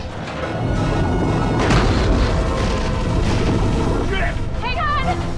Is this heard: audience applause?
no